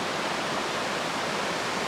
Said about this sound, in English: down by the Eau Claire River this morning